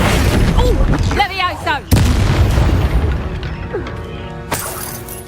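A Confringo spell explosion booms in Hogwarts Legacy: a sharp blast with a shattering crash, amid game sound effects and a shouted voice.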